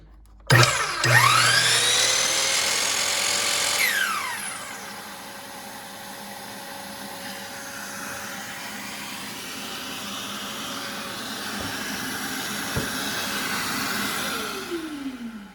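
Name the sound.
Kobalt sliding miter saw running with auto-start shop vacuum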